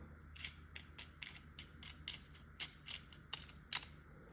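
A castle nut is tightened on a Pepperball VKS less-lethal launcher, giving quiet, close clicks and ratcheting ticks in an irregular series of about a dozen, growing slightly sharper toward the end, with no voices.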